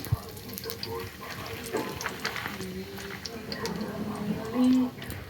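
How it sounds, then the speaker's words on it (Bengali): Panch phoron spices and two bay leaves sizzle in hot oil in a wok, a steady crackling hiss with soft ticks and stirring clatter, close and moderately loud beneath someone speaking. "এবার কড়াই একটু পাঁচফোড়ন দিয়ে দিলাম, দুটো তেজপাতা দিলাম,"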